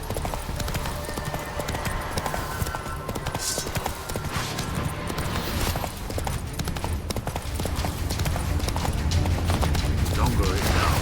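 Horse hooves clip-clop in a steady galloping rhythm while riding in The Witcher 3 video game, with continuous game ambience and speech mixed in over the hoofbeats.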